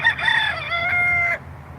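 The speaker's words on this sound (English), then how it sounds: "You hear that chicken?" A single rooster crow rings out nearby, a bright sustained call that ends sharply, leaving quiet background hum behind it.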